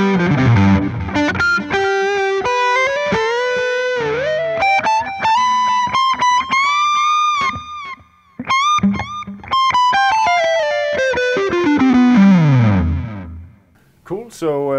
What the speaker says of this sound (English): if we dial in the modulation, so then sometimes you can hear it easier on the distortion